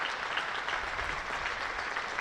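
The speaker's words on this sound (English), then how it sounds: "Good round of applause as well from this crowd" Cricket crowd at a Hampshire v Somerset county championship match applauding a batsman's half-century, steady broad clapping from a sizable crowd, continuous and even throughout.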